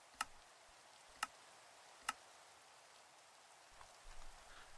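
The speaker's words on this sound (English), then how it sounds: "I mean, it's raining" Rain falling in the Minecraft modpack OceanBlock 2 makes a faint, steady soft hiss, broken by three sharp, evenly spaced ticks near the start.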